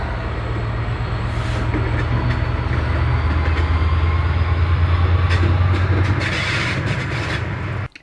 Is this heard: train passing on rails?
yes